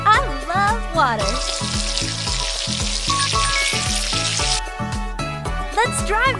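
A burst of running water in a pet-bath video game, a steady rushing hiss lasting a few seconds over a bouncy, looping game tune.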